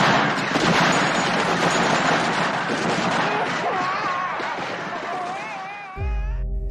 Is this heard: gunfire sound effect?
yes